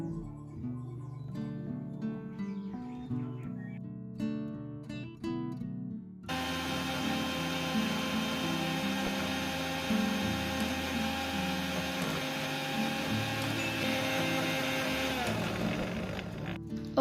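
A mixer grinder jar blends jelly with one cup of whipping cream for a pudding, a loud, steady whirring roar that starts abruptly after a musical intro and runs unbroken for about eleven seconds, with no talk.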